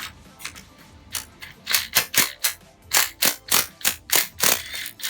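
A ratchet backing out a 10 mm bolt on a 2005 Acura AC compressor, giving a steady run of crisp, close metallic clicks in quick rhythm that grow louder and more regular partway through.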